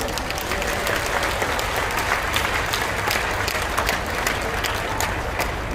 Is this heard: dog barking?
no